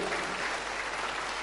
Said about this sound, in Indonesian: Tepuk tangannya paling meriah.